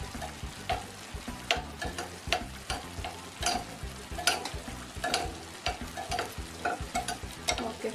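Beetroot sweet fries in a pan with a soft, continuous sizzle, punctuated by repeated rhythmic scrapes and clacks of stirring, close and fairly quiet.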